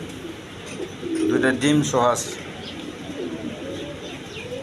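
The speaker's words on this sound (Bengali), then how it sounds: "এক পেয়ার গিরিবাস কবুতর আছে দেখেন হাই ফ্লাইং গিরিবাস কবুতর" A pair of high-flying Giribaz pigeons coos softly in the background while someone speaks briefly over them.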